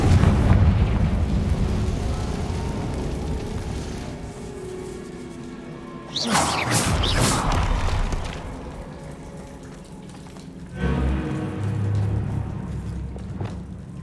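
A Confringo spell in Hogwarts Legacy bursts with a sharp fiery explosion midway, followed by a second heavy rumbling blast, over a dim, echoing game ambience.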